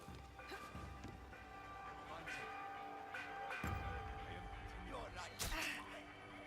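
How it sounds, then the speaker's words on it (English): An alarm bell rung by enemies in a video game, a few ringing bell tones layered with sharp impacts and scuffling game sounds, with some background voice. "Oh shit, they rang the bell."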